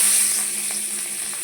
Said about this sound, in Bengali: মাছগুলোকে আমি লাল লাল করে ভেজে নেব।